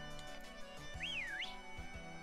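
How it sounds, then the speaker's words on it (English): A short rising-and-falling whistle sounds in the Pokémon Sword video game, played over the game's steady background music with low rhythmic beats. "I'm gonna whistle at you"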